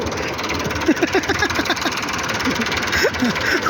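A tractor engine idles with a steady low chugging rumble, close by, while a voice speaks briefly over it.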